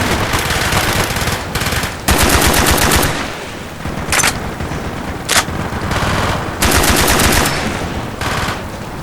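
Heavy automatic gunfire from a Call of Duty Black Ops battle, dense machine-gun bursts and rapid shots repeating loudly and close throughout, with brief sharp volleys punching through a constant din of combat.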